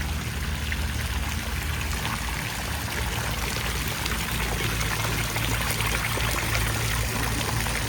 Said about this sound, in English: Water feature here.